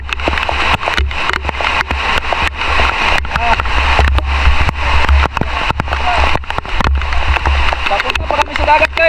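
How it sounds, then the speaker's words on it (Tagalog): Heavy rain pours down at night on a coastal spearfishing trip, a dense loud hiss with irregular spattering and wind-like buffeting that runs continuously close to the microphone. "Lakas ng ulan."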